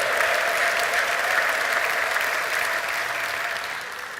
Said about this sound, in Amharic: ለዚህ ጌታ ከፍ ያለ እልልታና ጭብጨባ እንድሰጡ ልጠይቃለሁ